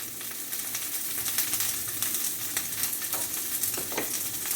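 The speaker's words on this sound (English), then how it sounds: "we just want to char the vegetables here" Vegetables char in a hot pan for vegan japchae with a continuous loud sizzle and crackle, along with a couple of stirring scrapes near the end.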